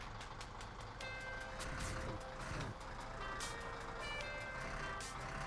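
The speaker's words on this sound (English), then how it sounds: "the cars are going by at speed" Cars in the My Summer Car driving game rush past at speed, a steady dense road roar of engines and tyres with passing swells and no talk over it.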